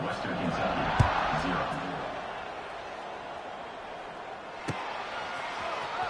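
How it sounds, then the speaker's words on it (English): A buzzing stadium crowd in an NCAA college football video game just before a kickoff, a continuous moderate murmur with two sharp thuds standing out, and a commentator's voice faintly mixed in. "this crowd is buzzing after that last score"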